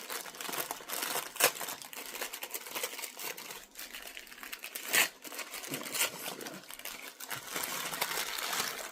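A paper packet holding Inchelium Red softneck garlic is opened by hand, giving close, continuous crinkling and rustling with a few sharper crackles and no talk over it.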